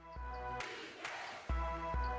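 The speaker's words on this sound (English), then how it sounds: "Crowd is getting loud now" Crowd noise in the Hoop Land basketball video game, a synthetic swell of cheering between stretches of steady electronic music, loud and alone without voices.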